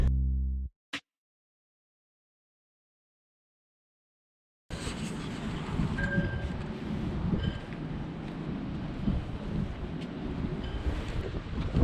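After a brief tone and a few seconds of silence, steady wind buffets the microphone in a continuous, loud rushing roar outdoors.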